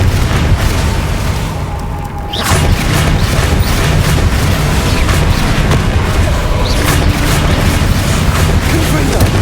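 Explosive spell blasts in the Hogwarts Legacy video game, a loud, dense rumble of booming bursts that runs almost without a break, with a brief dip before the blasts roll on.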